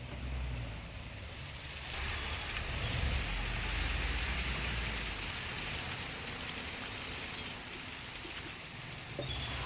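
Heavy monsoon rain pouring down around Trimbakeshwar near Nashik, Maharashtra, a dense steady wash of downpour that swells after the first two seconds and holds loud and even to the end, with a low rumble underneath.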